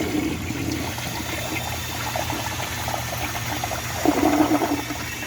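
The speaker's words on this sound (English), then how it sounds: "So I'll give it a flush and then let's see how it does on the tests." A 1983 Vitromex toilet flushes with steady rushing, gurgling water at close range, then a louder surge of draining water near the end.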